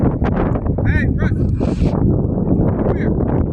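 Geese honk in a few short bursts at a windy park by choppy water, heard at moderate distance under steady wind rumble and someone talking.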